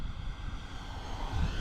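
An F-14 jet engine in a flight simulator drones as the throttle is pulled back, a steady, loud broadband roar with a low rumble and no sharp changes.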